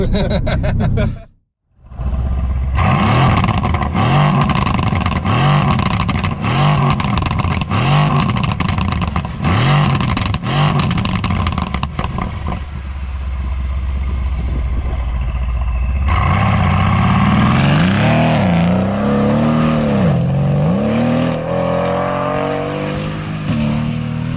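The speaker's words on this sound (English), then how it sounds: "I do like the fact the car grumbles a lot. You do get that sort of V8 feeling" A deep V8 engine of a 2016 Mercedes-AMG C63 (W205, Stage 2 tune) rumbles and revs repeatedly, rising and falling in pitch with loud throaty bursts, then settles into a steady growl.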